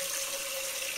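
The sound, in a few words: water running from tap into pot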